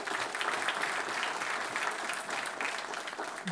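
Sustained applause from an audience at a book presentation, a dense even patter of many hands clapping steadily throughout, fairly close and moderately loud, with no talk over it.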